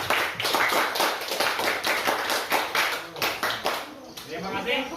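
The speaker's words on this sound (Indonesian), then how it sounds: "Kita tepuk tangan dulu semuanya." A group claps hands in a steady rhythmic pattern, distinct sharp claps repeating quickly and then trailing off as a voice starts speaking near the end.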